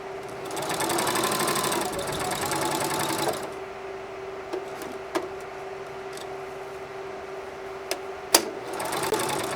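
A sewing machine stitches around the edges of a triangular fabric hot pad, running steadily and loudly for about three seconds, then stopping and leaving a quiet stretch broken by a few small clicks as the needle is dropped and the work pivoted.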